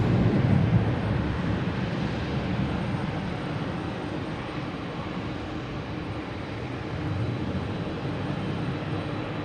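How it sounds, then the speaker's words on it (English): Planes taking off and landing at Logan Airport make a steady, loud jet-engine roar that fills the whole stretch with little change in level. "Suddenly all the planes here are extra loud taking off and landing."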